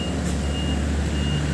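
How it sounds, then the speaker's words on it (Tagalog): A truck arrives at a tube ice plant in stormy weather, sounding a steady run of reversing beeps over a loud, close engine rumble. "parating pa na isang truck."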